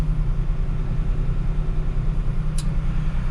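A 2003 Ford E250 contractor cargo van's engine idling steadily right after start-up, a continuous low rumble heard from inside the cab with no talk.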